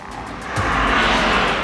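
The six-cylinder engine of a 2023 BMW M2 builds into a loud, sustained rev, a steady broadband roar that swells and holds close by with no talking.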